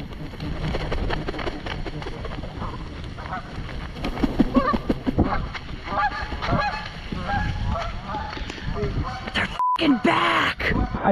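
Geese honk repeatedly in a video game, loud nasal calls overlapping in a busy stretch alongside ongoing talk and game noise, with a brief electronic beep near the end.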